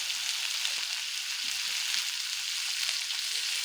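Chopped onions hit hot oil in a kadhai, giving a continuous dense sizzle that stays even and close throughout.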